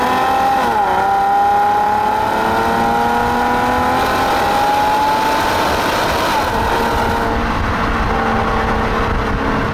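Nissan 370GT coupe engine pulling steadily while driving, a continuous loud drone whose pitch climbs slowly through the revs with a brief dip like a gear change early on.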